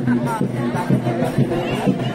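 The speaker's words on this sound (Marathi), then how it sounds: "माणसांची गर्दी वाढत चाललेली आता" A growing crowd fills a village Shimga festival fair in Kumbhavade, Rajapur, amid food stalls and balloon sellers, a dense hubbub of many voices nearby, with one person talking clearly over the babble.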